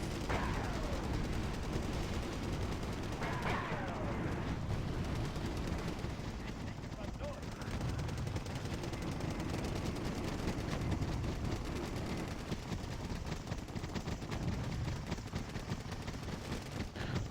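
Mi-24 helicopter gunfire in Wargame Airland Battle rattles in rapid bursts over a dense battlefield din, with heavier distant blasts mixed into a constant rumbling backdrop.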